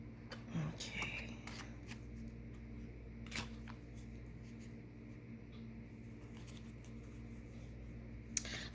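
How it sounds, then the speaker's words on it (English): Tarot cards are handled and pulled in quiet, close shuffling and flicking sounds, with soft papery slides and light taps scattered over a faint steady room hum. "Let's pull these cards."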